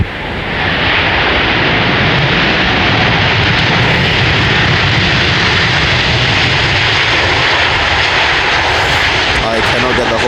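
A jet airliner at Edinburgh Airport roars past on the runway, a loud, sustained broadband engine rumble and hiss that swells in and holds steady for about ten seconds, close to the listener.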